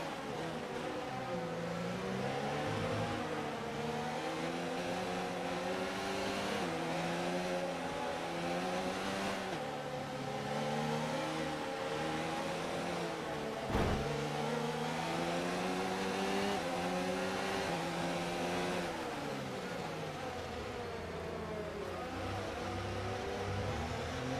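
An Aston Martin Red Bull race car in F1 2019 at the Spanish Grand Prix, its engine loud and close as it revs up and shifts through the gears again and again, with a brief sharp spike midway.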